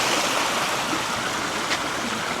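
A river in Japan, deep enough that swimming is likely not allowed, gives a steady, loud, close rush of flowing water that stays even throughout with no breaks.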